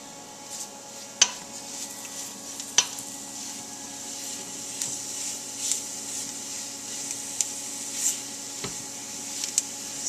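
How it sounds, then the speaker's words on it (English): A roux for chicken pot pie is stirred in a hot pan, giving a soft steady sizzle with scattered scraping clicks of a utensil against the pan at irregular intervals. "So I'm just going to mix this around."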